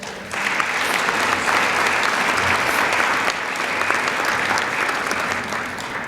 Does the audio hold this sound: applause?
yes